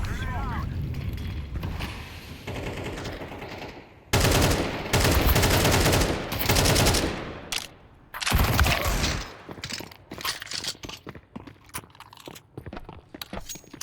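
Gunfire in a video game comes in loud bursts of rapid automatic fire, broken by pauses and scattered single shots, with some talking mixed in.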